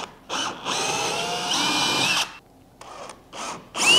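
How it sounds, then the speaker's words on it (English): A power drill bores a 1/4 inch hole, following a smaller pilot hole, while installing an SKF steering kit on a boat, whirring loudly and steadily for about two seconds, then in two shorter bursts after brief pauses. "now that we have that pilot hole drilled, we can come back in with the 1/4."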